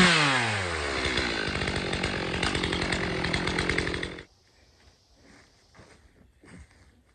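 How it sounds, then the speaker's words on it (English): A chainsaw revs loudly and cuts into a log for about four seconds, then shuts off, leaving quiet rustling and a few footsteps outdoors. "You're doing it with a chainsaw."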